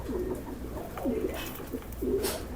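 A female pigeon coos softly nearby in a few low, rolling calls spaced about a second apart, over a steady background hum.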